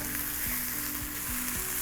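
Onions sizzle and fry steadily in a pan while being cooked down until browned, a continuous close hiss with a few soft stirring scrapes and no talk.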